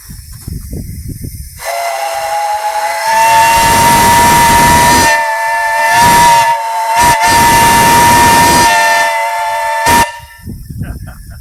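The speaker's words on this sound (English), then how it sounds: "Give it a little blast on the whistle there, Joe." A loud, sustained whistle on a coal-burning steam locomotive blows for about eight seconds with slight breaks, over hissing steam and a chuffing engine.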